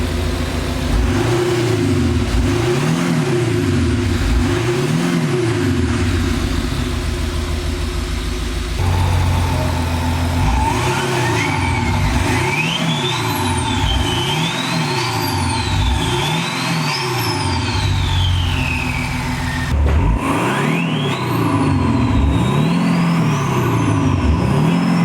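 An Audi A6 3.0 V6 BiTDI diesel with 3-inch stainless steel downpipes and deleted DPFs revs loudly and repeatedly on a dyno, its engine note swinging up and down in steady cycles alongside a rising whine, with no voices.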